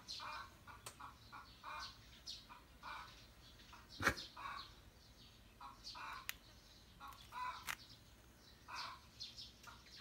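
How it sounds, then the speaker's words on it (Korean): A neighbour's chicken clucks and calls faintly in the distance, with scattered chirps and an occasional sharp sound over a quiet, steady background. "저놈의 닭이 추임새를 넣어주네. 그래, 닭아 실컷 울어라."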